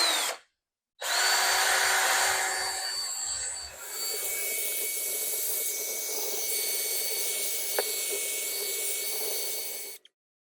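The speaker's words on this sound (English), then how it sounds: "I'm going to use my drill and this stiff nylon brush" A power drill spins a stiff nylon brush scrubbing tile grout, a loud high whirring hiss with rough scrubbing texture that starts after a short pause, runs steadily for about nine seconds, then stops.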